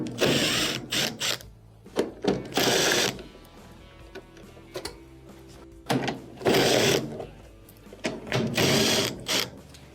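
Quarter-inch screws being backed out of a washing machine panel with a power driver, a series of short whirring, ratcheting bursts separated by quiet handling noises, close and fairly loud.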